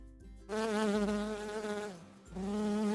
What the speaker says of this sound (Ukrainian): Це бджола.